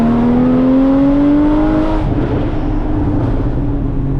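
A Porsche Cayman GT4 engine revs hard, pitch climbing steadily for two seconds, then drops into a deep, loud burbling idle. Close and powerful, no talking.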